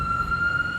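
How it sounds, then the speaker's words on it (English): An ambulance siren sounds outside, a steady high-pitched tone that is clear but distant and held for under a second before cutting off. "Sorry, ambulance."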